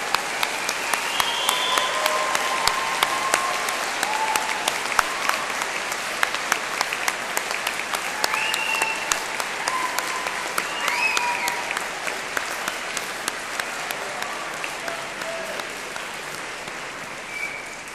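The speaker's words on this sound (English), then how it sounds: "giving them a big round of applause and a cheer" Graduation ceremony audience at a university in Cardiff gives a sustained round of applause with scattered cheers, a dense steady clatter of many hands filling the hall without a break.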